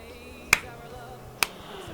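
Two crisp finger snaps ring out about a second apart as mock applause, close and sharp over a quiet background.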